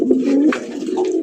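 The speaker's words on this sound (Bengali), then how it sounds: "মাশাআল্লাহ বোম্বাই কবুতর" A Bombay pigeon gives a close, clear coo, a low throaty warble that rises and dips twice across the short moment, with no voices.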